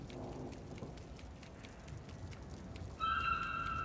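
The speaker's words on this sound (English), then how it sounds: "That's raining." Steady rain pours down in the dark factory setting of the video game Little Nightmares, a dense hiss of falling water that runs throughout, with a brighter tonal hum joining near the end.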